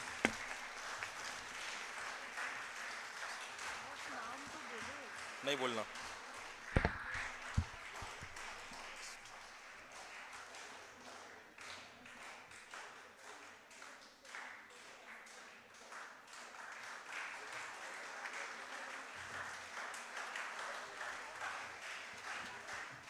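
Audience applause at a medical conference awards ceremony, a steady broadband clatter of many hands lasting throughout, with a few brief spoken words and some sharp knocks near the start.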